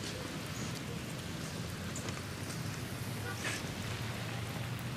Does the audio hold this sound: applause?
no